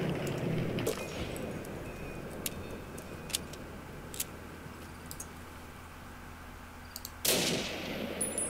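Kar98 bolt-action rifle shots in Fallout New Vegas: a handful of sharp, isolated cracks spaced over a steady low background hum, with a heavier blast near the end.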